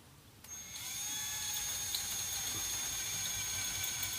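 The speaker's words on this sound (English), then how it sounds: "I'm going to use the edge of the drill and put a little side pressure on it" A drill bit spins up and grinds steadily into metal while making a recoil spring compression tool, a high, whining, continuous scream that holds at an even loudness.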